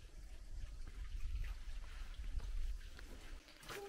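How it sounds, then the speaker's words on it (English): Small waterfall trickling into a pool in a rocky gorge at Purnululu National Park, a faint steady watery trickle and splash held at low level without speech. "a little waterfall trickling out."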